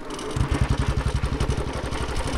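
A motorcycle engine is started in gear and catches with a quick burst of rapid, regular firing pulses, then settles into a steady, close running rumble.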